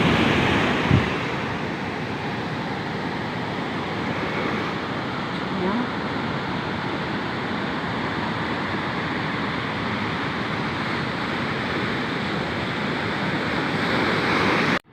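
Sea waves wash steadily onto Mansouria beach, with a constant broadband roar of surf and wind that stays loud and even throughout, and no clear voices.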